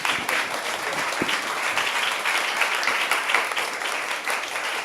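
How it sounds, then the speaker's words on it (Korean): An audience at a humanities arts concert with a visual designer as guest gives a warm, continuous round of applause, many hands clapping steadily at moderate volume with a few sharper individual claps standing out. "선생님께 뜨거운 박수 한번 부탁드립니다"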